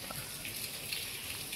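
Steady heavy rain falling outdoors near a temple on a trip, a constant dense hiss of drops with no voices, filling the short stretch evenly.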